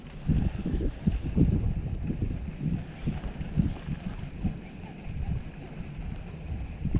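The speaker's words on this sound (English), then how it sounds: "it is a windy day out here" Wind gusts buffet the microphone beside a small fishing pond, a rough, low rumbling roar that rises and falls in irregular bursts throughout, close and fairly loud, with no speech.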